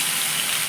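Water gushes steadily into a pan of fried, softened tomatoes for a fish tenga curry, a loud continuous pour with no talking.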